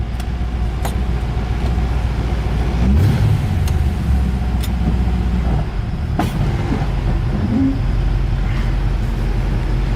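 A modified Chevrolet Cavalier sleeper project car rolls slowly out of a shop, its engine giving a steady, close, low rumble with a few faint clicks and knocks throughout.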